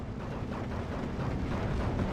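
Heavy 100 kilogram bombs exploding in the war game Steel Division 2, a dense, continuous low rumble of distant blasts rolling together without distinct separate hits, moderately quiet and steady throughout.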